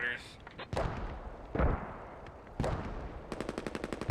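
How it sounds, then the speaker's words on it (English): Several heavy mortar blasts boom at intervals during a mechanized battle in a Squad-style military game, followed by a rapid burst of automatic gunfire. A voice talks faintly underneath. "I'm hitting the rep station with the mortars"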